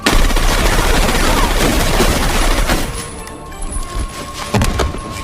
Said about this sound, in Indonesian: Surya menembak Kiatsu.